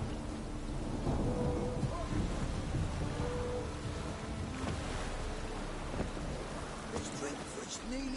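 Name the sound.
thunderstorm in a video game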